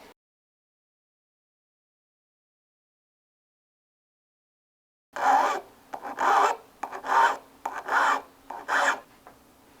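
After a long silence, a file rasps back and forth in about six steady strokes on a 1911 pistol ejector, close and clear.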